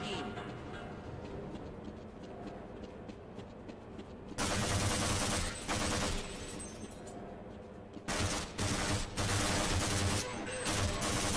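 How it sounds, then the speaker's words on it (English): Machine-gun fire in a video game comes in two loud, dense rapid bursts, one lasting about two seconds and a longer one near the end, set against quieter game sounds with a voice talking at times. "Oh, I got machine guns now."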